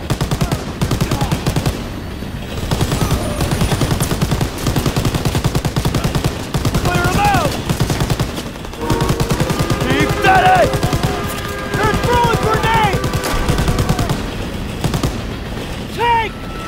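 Rapid bursts of automatic gunfire rattle almost continuously over a dense World War II video game soundtrack, with voices speaking in between the volleys during an attack on a train.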